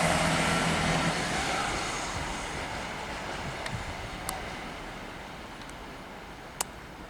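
A Great Western Railway diesel train, a Class 165 or 166 unit with a Perkins engine, rumbles broadband and steady, loudest at the start and slowly fading as it passes, with a couple of faint clicks.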